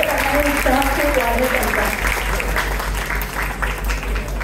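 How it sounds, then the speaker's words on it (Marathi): At a Mangalagaur celebration held by a Marathi Brahmin community in Kharghar, a crowd applauds little girls: sustained clapping runs the whole time under a loud voice speaking or chanting. "छोट्या मुलींसाठी मोठ्याने जोर टाळ्या होऊन जाऊ."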